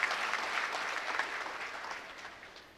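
Sustained applause from a crowd of party workers at a BJP rally in Kudal, a dense steady clatter of clapping that slowly tapers off over a few seconds.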